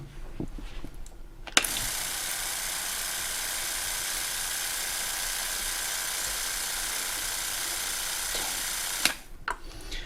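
A Ryobi 18V battery handheld sprayer sprays water with a steady high-pitched electric whir, switching on abruptly and running evenly for about seven seconds before cutting off cleanly, close and alone.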